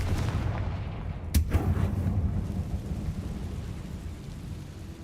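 A Confringo blasting spell goes off in Hogwarts Legacy: a single sharp crack, then a short rolling boom that fades into a steady low rumble of game ambience. No voices are heard.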